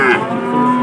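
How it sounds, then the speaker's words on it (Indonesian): Cattle at the Pasar Pon livestock market in Blora give a loud, close moo, a single sustained bovine call lasting about a second with no talking over it. "Sapi-sapi pegon berjejer rapi teman-teman."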